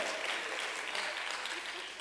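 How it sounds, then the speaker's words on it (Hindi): Applause from an audience thanking performers after a devotional programme, a steady dense patter of clapping held at even strength throughout. "ये तो ताली बजा के धन्यवाद करना चाहिए"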